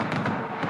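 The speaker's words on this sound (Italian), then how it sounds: "salutata da un tripudio di applausi e fuochi d'artificio" Fireworks go off over Piazza Duomo during the Sant'Agata festival as a dense, continuous crackle and rumble of bursts heard from a distance.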